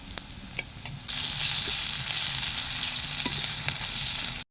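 Ginger, green chilli, garlic and cumin-pepper pastes hit hot oil in a pan; a soft background crackle jumps into a loud, continuous hiss of sizzling that holds steady to the end.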